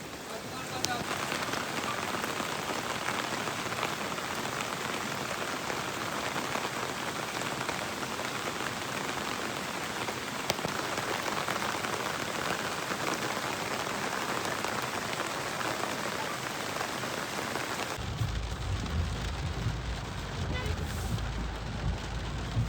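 Heavy monsoon rain pours down in dense forest, a loud, continuous hiss of drops on leaves and surfaces that holds steady throughout before shifting near the end to a lower, rumbling tone.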